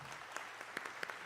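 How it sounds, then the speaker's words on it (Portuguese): Applause from an audience at a formal honorary ceremony in a legislative chamber, a quiet, sparse patter of clapping with scattered individual claps standing out, fairly faint and distant. "Eu peço uma salva de palmas."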